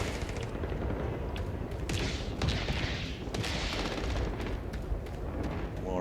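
Gunfire fills a combat scene in Starfield Shattered Space: steady, overlapping shots and bursts with heavier booming impacts, sustained and fairly loud throughout, with no voices.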